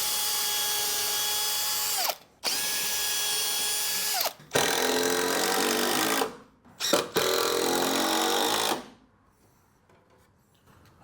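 Power drill driving screws into a truck cab brace during rust repair, several high-pitched whirring bursts of a couple of seconds each separated by short pauses, loud and close, ending in quiet.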